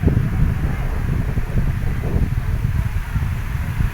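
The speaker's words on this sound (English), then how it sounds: "Windy." Steady wind buffets the microphone, a constant low rumbling roar with no pauses and no voices.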